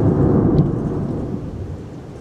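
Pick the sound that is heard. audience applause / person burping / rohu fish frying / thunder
thunder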